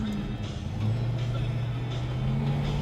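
A 1972 Buick GS Gran Sport engine idling steadily at close range before warming up, its low hum rising slightly in pitch partway through, with faint voices.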